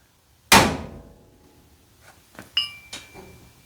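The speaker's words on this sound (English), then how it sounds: "we're going to just put the nut on there, give them a couple of whacks. Hopefully they'll fall right off." Sharp metallic whacks from a hammer knocking a steering part loose on a 1984 Dodge D150: one loud ringing strike, then several lighter taps and clinks close by.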